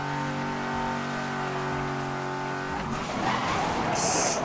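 A race car in Need for Speed Most Wanted (2012) hums with a steady engine tone, then breaks into a rough tire skid and scraping as the car slides, loud and close.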